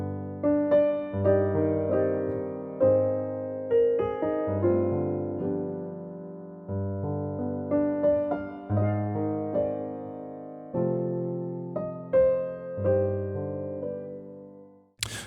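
Solo piano plays a simple, calm melody sketch as an opening section, soft and sparse with sustained notes and chords struck at a slow, even pace, alone without talk.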